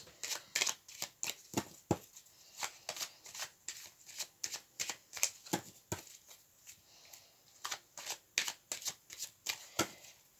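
Tarot cards are shuffled and cut by hand in quick repeated riffles, a faint, rhythmic run of crisp papery flicks and taps spread evenly over several seconds, with no voices.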